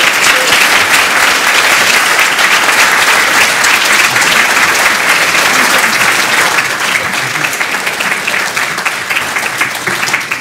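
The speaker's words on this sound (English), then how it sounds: "let's give one final round of applause to our candidates, Ms. Gregg and Mayor Gatsas." Loud, sustained applause from a large audience honoring the candidates at the close of a mayoral debate, a thick unbroken roar of clapping that eases a little toward the end.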